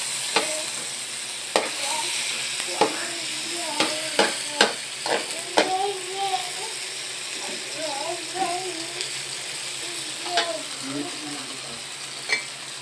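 Food frying in a little cooking oil in a pan for a saucy egg dish, with a steady sizzle under repeated scraping and stirring strokes, close and moderately loud, with a few faint murmurs in the background.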